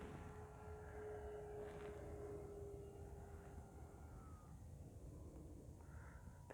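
An FMS F4U Corsair RC model airplane with a 1.7 m wingspan taking off, its electric motor a steady, faint whine and hum with a rising tone, heard at a distance and without speech.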